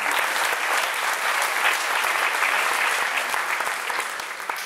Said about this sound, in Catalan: Un fort aplaudiment per a ella.